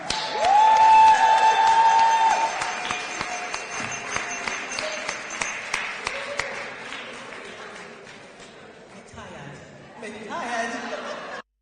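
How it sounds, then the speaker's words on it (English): An awards ceremony audience applauds and cheers as an honoree is welcomed on stage, with loud clapping that fades gradually into chuckles, laughter and chatter, while music or a tone sounds briefly at the start. "Give a huge round of applause, please"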